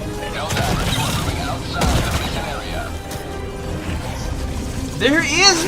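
Gunfire erupts in Helldivers 2 as a player shoots at enemies, with bursts and booms from the game layered under excited talking throughout.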